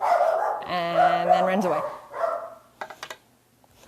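A dog barks and yelps at a doorbell delivery, a run of loud close barks mixed with a person talking, then a few sharp scattered barks that fade to quiet.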